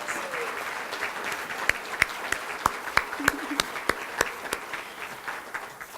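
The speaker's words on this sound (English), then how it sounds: "how about another round of applause for our students?" A luncheon audience applauds students at a scholarship event, steady clapping from a room full of people with a few sharper, closer claps standing out.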